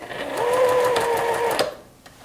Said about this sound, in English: I'm starting at that first dot, and I'm just gonna back stitch